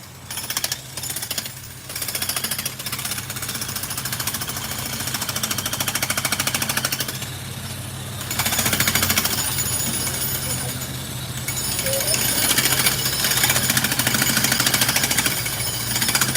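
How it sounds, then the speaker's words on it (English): A jackhammer pounds in rapid continuous bursts nearby on a street in Harlem, New York City, loud and rattling, with an engine droning underneath and pauses between bursts. "Want to watch a jackhammer?"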